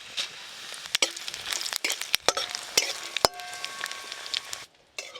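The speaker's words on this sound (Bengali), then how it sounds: "প্রথমে আমি শুকনো লঙ্কা আর গোটা জিরে একটু ভালো করে ভেজে নেব।" Dry red chillies and whole cumin seeds fry in hot mustard oil, giving a steady close crackle and sizzle with sharp pops scattered throughout, then fading near the end.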